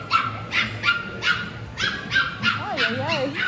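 A golden retriever puppy barks repeatedly in a short rhythmic series, fairly close, ending in whimpering yips, during a walk in downtown Celebration, Florida, with people talking nearby.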